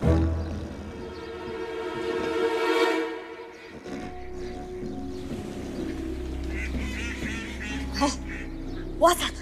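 Ducks in a comedic Egyptian film scene quack and honk repeatedly at close range, mixed with people talking and background noise.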